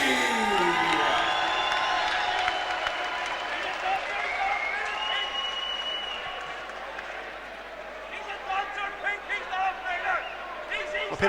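Arena crowd at a boxing bout applauding a fighter from Macon, Georgia after his ring introduction, a steady wash of clapping and cheers with whoops rising near the end, and an announcer's voice carrying over it.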